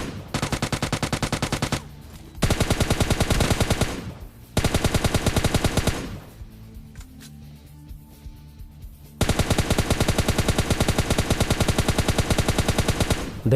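Automatic gunfire in PUBG Lite, a mobile battle-royale shooter, rattles out in loud sustained bursts separated by short gaps, with quieter in-game ambience between volleys and no talking.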